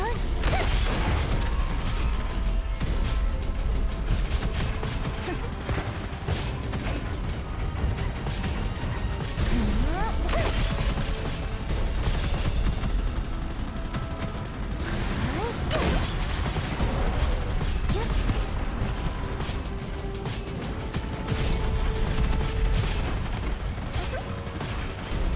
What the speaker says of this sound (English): Tiger cannon rocket launcher.